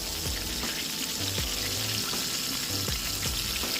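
Food deep frying in oil in a fryer, a constant bubbling hiss filling the whole clip at moderate level, with low knocks and soft clatter underneath and no voices.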